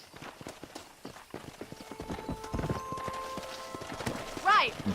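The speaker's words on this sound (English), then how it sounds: "horse." A horse clip-clops at a steady rhythm in Red Dead Redemption 2, hooves thudding close and clear, then gives a short, sharp neigh near the end, with game sounds and a voice mixed underneath.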